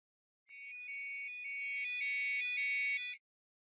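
High, thin electronic beeps from an Arduino-driven piezo buzzer play a short tune of stepped pitches, steady and clean, then stop abruptly after a few seconds of silence around them.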